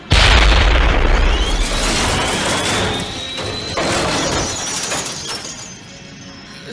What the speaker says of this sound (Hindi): टैंक बिल्कुल हमारे टारगेट पर है सर। फायर!